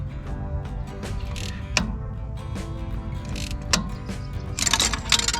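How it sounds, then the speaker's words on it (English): Ratchet wrench clicking in short bursts as it tightens a nut on the starter of a John Deere 3020 tractor, close and fairly quiet, with a few sharper metallic clicks near the end. "Just gonna attach my ratchet. Give her a couple little turns back there."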